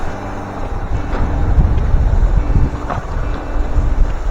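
Wind gusting at 12 to 15 knots across a sailboat running under spinnaker, heard as a steady, rough, low roar of wind buffeting the microphone, swelling slightly without clear breaks.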